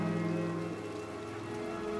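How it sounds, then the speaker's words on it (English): Rain falls in the RimWorld video game as a steady, dense patter with no break, alongside a constant tonal hum from the game's background music, and no one talks. "oh, it's raining here"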